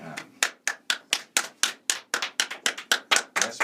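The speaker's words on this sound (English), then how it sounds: "Yes, we need to applaud." A small group claps along in a session, about sixteen sharp, evenly spaced hand claps in a steady rhythm, close and fairly loud, with no voices over them.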